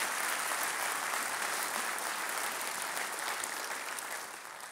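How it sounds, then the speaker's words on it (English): A large audience applauds steadily at a civic development update in Long Beach, a dense wash of clapping that holds full for several seconds and then starts to taper slightly at the end. "let's give East Long Beach a round of applause"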